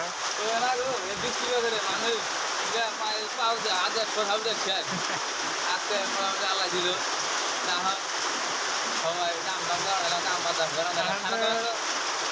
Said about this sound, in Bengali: একদম মজার বৃষ্টি হয়েছে